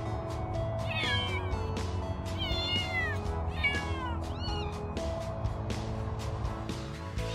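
Maine Coon kittens meow repeatedly in a house on their first day home, high rising-and-falling cries in several bursts, fairly close and clear over a steady low background hum.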